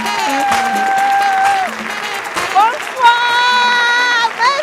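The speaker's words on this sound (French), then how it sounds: "faites beaucoup d'applaudissements pour Philomène" Applause for Philomène at a live comedy stage show, with a crowd clapping steadily beneath tonal music or voices that rise and fall over it.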